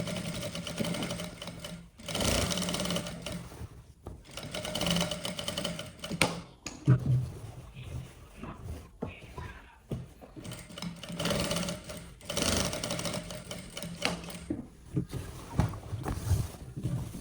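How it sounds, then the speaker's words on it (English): Sewing machine stitches main fabric and interfacing together in steady motorized bursts, stopping and restarting several times across the stretch, close and fairly loud with brief quiet pauses between runs. "So we are going to sew it together."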